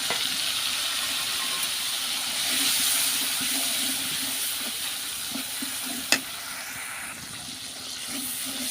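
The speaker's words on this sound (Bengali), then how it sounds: "তেল গরম হয়ে গেছে এখন এই যে মশলাপাতি সব দিয়ে দিছি সুন্দর মতো কষা লাগে" Spices frying in hot oil in a pan, a steady close hiss and sizzle with faint stirring and one sharp clink near the end.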